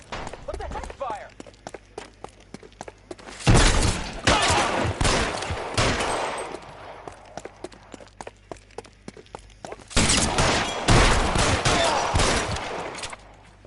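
Gunfire in the L.A. Noire video game: sharp shots crack steadily throughout, swelling into two heavy, dense volleys of rapid fire, loud and close.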